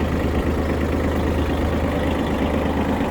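The three-cylinder engine of a Mitsubishi GE-150 mini tractor fitted with a rotary tiller runs at a smooth, steady idle, close by with a constant low throb and no talking.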